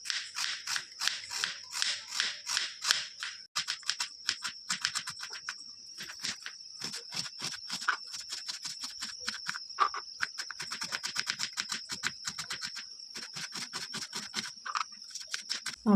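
A knife chops onion into small pieces for a mutton sukka recipe, giving a steady run of quick, crisp taps at close range with a thin, constant high whine behind them and no talking.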